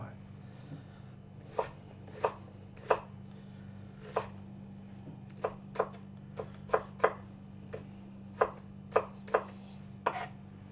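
Onions chopped on a cutting board with a knife, a string of about fifteen sharp, close knocks in an uneven rhythm, with a low steady hum underneath and no talking.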